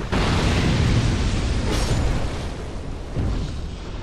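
A fire eruption roars in Dark Souls 2, a loud sustained rushing blast that swells again toward the end, no voices.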